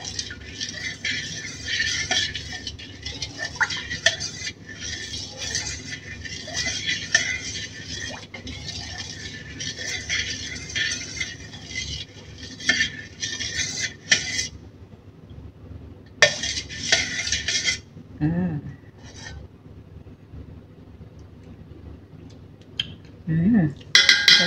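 A utensil stirs bibingka galapong batter in a bowl, giving steady clinks and scrapes against the bowl for about fifteen seconds, then sparser knocks and rattles of kitchenware at close range.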